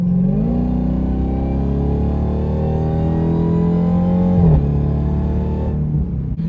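A 2023 Dodge Demon 170 muscle car accelerates hard, its loud, close engine climbing steadily in pitch, briefly dipping at a gear change, then pulling on without voices.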